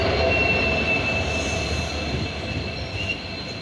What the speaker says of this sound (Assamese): এতিয়া আমি এতিয়া ট্ৰেইন আহিব দে, এইপিনে আহিব